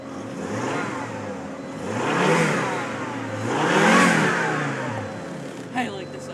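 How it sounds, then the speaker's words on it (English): A Volvo S70 turbo engine with 213,000 on it, freshly pulled from a junkyard, revs up twice in slow swells over its running drone, heard close with a voice faintly in the background. "Give it some revs."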